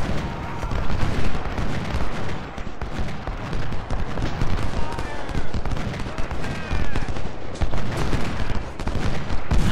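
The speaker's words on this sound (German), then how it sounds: "Kanonenfeuer da drauf." Dense, continuous battlefield gunfire and booming cannon volleys from the Civil War strategy game Ultimate General: Civil War, loud and sustained, with a voice talking over the din.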